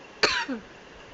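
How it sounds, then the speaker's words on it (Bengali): A single short cough, close and fairly loud, with a rough throaty tail, then near silence. "আমার আসলে কাশি হচ্ছে"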